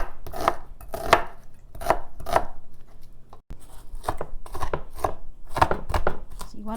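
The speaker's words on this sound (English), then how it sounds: "Okay, so I'm gonna chop up the onion." A knife chops an onion on a cutting board in quick bursts of sharp, close knocks with brief pauses between runs, in a quiet kitchen.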